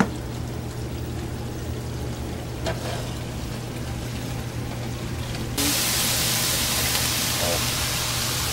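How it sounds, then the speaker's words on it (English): Cooked onions poured into a pot of meat and mushrooms for spaghetti sauce, heard as a soft steady hiss and pour, rising into a brighter, louder wash of sizzle in the last few seconds, with no talk. "I'm going to pour this in with the meat and the mushrooms"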